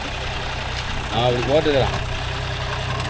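A John Deere 5050D GearPro 4WD tractor engine idles with a steady low rumble while voices talk over it nearby.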